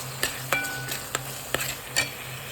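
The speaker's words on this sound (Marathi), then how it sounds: "मिक्स करूया" Frozen peas stirred into paneer tikka masala in a pan, several distinct spoon scrapes and clinks over a low sizzle, close and fairly regular.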